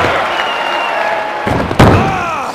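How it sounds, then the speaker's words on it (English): In the WWF Attitude wrestling game on Dreamcast, a wrestler hits the mat with a heavy slam thud, followed by a second impact over steady crowd noise and a brief game voice. "Slammed onto the mat."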